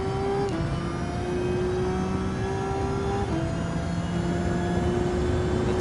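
Racing Series Mercedes-Benz AMG Vision GT race car in Gran Turismo 7, a steady high engine whine holding loud and close, stepping through gear changes with short pitch drops before climbing again, with no voices.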